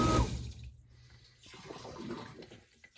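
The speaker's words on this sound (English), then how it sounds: "The pump activates, sucks all the water out into your sump pump." A condensate pump switches on and sucks water out of its pan into a sump pump, opening with a loud watery rush that fades into quieter gurgling and draining.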